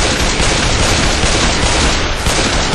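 Dense, loud automatic gunfire rattles without pause in the video game Left 4 GoldenEye, a continuous fusillade of rapid shots filling the whole moment.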